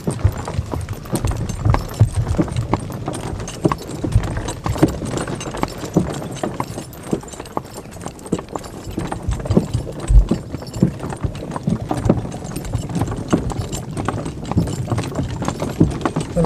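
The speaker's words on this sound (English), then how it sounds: "Well-trained horse. Take you home." A well-trained horse's hooves clip-clop steadily for a long stretch on a hard surface. The regular rhythmic beats sit under a rumbling, rattling background, as if from a moving cart.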